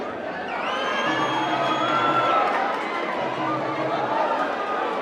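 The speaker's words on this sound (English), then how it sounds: "the Red Army are cheering on Stars" Football fans at an African Stars match cheer and shout together as a steady, loud crowd roar with whoops and chatter, while a voice talks over it.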